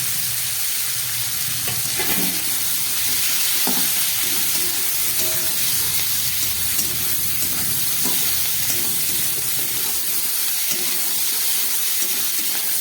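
Beans, potato and eggplant fry loudly with shrimp and green chillies in a hot pan, giving a dense, continuous sizzling hiss close up with a few faint stirring knocks and no voices.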